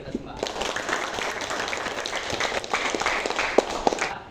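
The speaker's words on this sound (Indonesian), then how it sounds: "Tepuk tangan buat kita semua." Students in a classroom clap together after a lesson, a short burst of scattered, uneven hand claps with a few sharper slaps standing out near the end.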